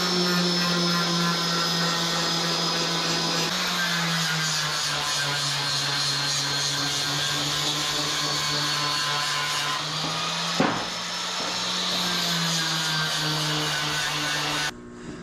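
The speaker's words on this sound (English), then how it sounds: "I'm going to clean these up with my flapper disc over here. We'll deburr it." An angle grinder with a flap disc deburrs a steel axle part for a 1966 Chevy one-ton dually, whining steadily and loudly for about fifteen seconds, with a brief catch and a slight drop in pitch near the end.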